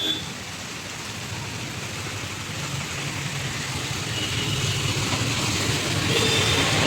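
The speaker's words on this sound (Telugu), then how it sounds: "అయినా వర్షం ఏమాత్రం తగ్గడం లేదు" Heavy rain with gusting wind at Saptagiri Circle, Anantapur, a steady roaring hiss that swells slightly louder toward the end, with traffic passing through the downpour.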